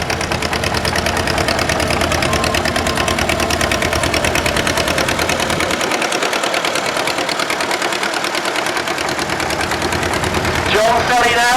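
Loud, busy clatter of a Claas AS122 German vintage tractor engine running at a tractor rally, a dense rhythmic knocking that stays constant throughout, with a brief higher whine near the end.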